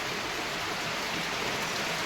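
Heavy monsoon rain pours down on a farm in Jalna district, a dense, steady hiss of falling water filling the air without pause.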